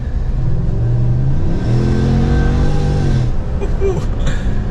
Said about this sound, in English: And that was just a mild acceleration.